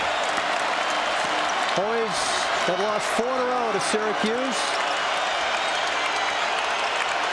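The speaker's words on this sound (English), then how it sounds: "Crowd on its feet." A basketball arena crowd at Syracuse vs. Georgetown on its feet, cheering and applauding as a steady, loud roar under continuous play-by-play commentary, with sneaker squeaks on the court.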